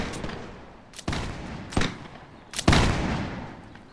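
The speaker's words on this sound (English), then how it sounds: "that cannon just shot" Cannon fire in the Napoleonic-era Mount & Blade game mod L'aigle, with three sharp blasts about a second apart, each a loud broadband crack that fades into rumbling echo over a battlefield background.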